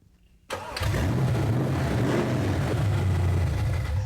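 A Chevy S10 truck engine with open headers cranks and fires after a short quiet moment, then settles into a loud, steady, rumbling idle close by, with no talking over it.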